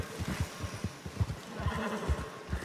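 A horse in the video game Red Dead Redemption 2 whinnies over a run of low, rhythmic thumps, with several short bursts at moderate loudness.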